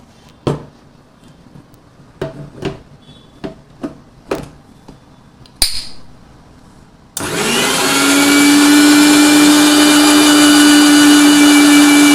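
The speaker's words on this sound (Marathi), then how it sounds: "आता हे मिश्रण आपण मिक्सरमधून काढून घ्यायचे आहे।" Several sharp clicks and knocks as a mixer grinder is readied, then the motor roars in loud and steady, blending cooked spinach and tomato for palak.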